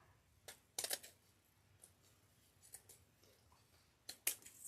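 Scissors snipping paper in short, sharp bursts, a few quick cuts close by with quiet pauses between, no talk.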